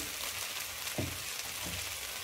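Ivy gourd frying in a pan gives a steady, close sizzling hiss that holds throughout, broken by two soft low thumps.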